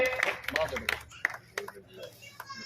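Scattered clapping at a block Congress committee meeting, a few sharp irregular claps sounding out amid a loudspeaker voice and background chatter, fairly faint overall.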